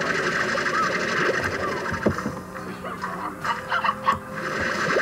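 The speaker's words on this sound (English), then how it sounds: "I keep hearing hen hens." Hen hens cluck in the video game Slime Rancher, with a steady fowl-like chatter layered over busy, constant game ambience and music.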